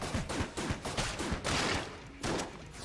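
Gemini rifle firing in the game Enter the Gungeon: rapid, rhythmic bursts of punchy shots in quick succession, with a brief lull before firing resumes.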